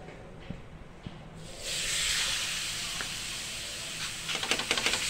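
A thalipeeth is laid onto a hot tawa and breaks into a sudden, loud hiss that settles into a steady sizzle, with small crackles and pops building near the end.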